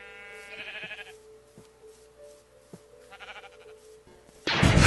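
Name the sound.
sheep bleating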